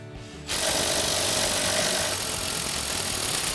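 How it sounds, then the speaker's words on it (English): An impact wrench fitted with an 18mm socket and extension removes the top hat nut from a truck's strut during a suspension lift install, starting abruptly and hammering continuously at close range, loud and steady with no talk. "we're going to be using an 18mm socket and extension on our impact"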